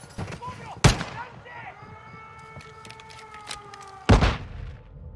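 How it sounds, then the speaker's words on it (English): A Call of Duty firefight against Mexican cartel gunmen: two loud, sharp bursts of gunfire about three seconds apart, with a wavering tonal wail and quieter activity in between. "That's some pretty ridiculous firing"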